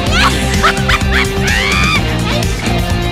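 A dog barks and yips rapidly at close range, mixing short loud barks with whimpering whines over a steady low background hum.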